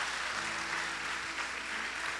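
A church congregation applauds in a dense, continuous wash of clapping, steady and moderately distant without individual claps standing out.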